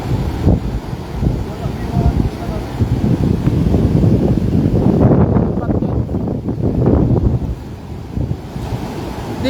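Strong wind buffets the open air beside water during cast net fishing, a loud continuous roar mixed with surf wash that swells and gusts throughout.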